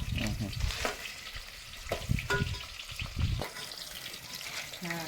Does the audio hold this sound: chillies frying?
yes